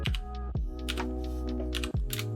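Quick clicking keystrokes on a computer keyboard, typed in short bursts close by over a steady bed of background music.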